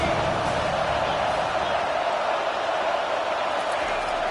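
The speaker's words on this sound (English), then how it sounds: "This crowd trying to make life miserable for this offense." Broad, steady roar of a large stadium crowd at an FSU versus Clemson college football game, loud and continuous with no distinct cheers standing out.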